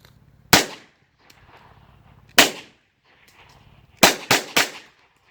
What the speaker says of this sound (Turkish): Gayet doyurucu atış deneyimi yaşatıyor size.